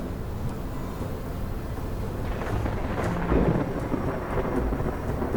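A thunderstorm in the video game Space Engineers: steady heavy rain with deep rolling thunder that swells midway, no voices.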